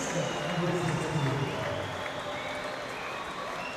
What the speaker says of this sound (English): you can hear the crowd appreciate it